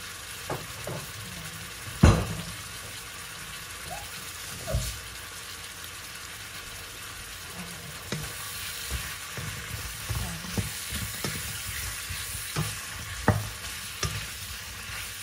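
Pork and beef steak fry in a pan with oyster sauce, a steady soft sizzle with occasional sharp clacks of a utensil stirring against the pan.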